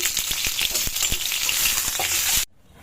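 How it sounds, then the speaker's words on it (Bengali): Eggs fry lightly in a hot pan with a loud, steady sizzle and scattered crackles, cutting off abruptly near the end, with no voices. "আমি এখানে ডিমগুলোকে একটু সামান্য ভেজে নিচ্ছি"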